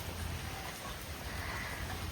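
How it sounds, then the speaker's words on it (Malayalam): Steady heavy rain pours down in a continuous, even wash of noise, filling the scene without pause and with no voices over it. "മഴയാണ് കേട്ടോ, നല്ല മഴയാണ്."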